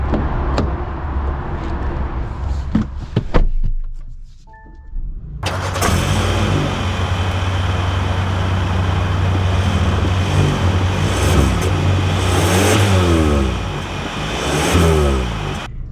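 A 2025 Kia K5 EX sedan in the cabin: near silence breaks into an engine start and steady running, then the engine note climbs as the car pulls away and accelerates.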